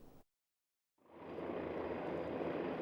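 A fire-service helicopter, 4.5 m tall and 15 m long, lifting off: after a brief cut to silence its engine and rotor roar swell up within a second and hold loud and steady to the end.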